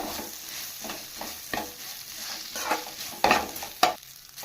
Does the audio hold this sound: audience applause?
no